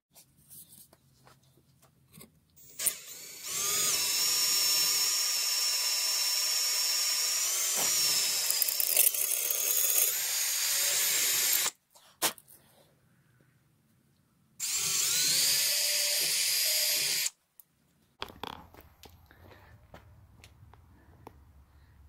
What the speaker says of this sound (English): We'll drill it out with an 1/8 inch hole.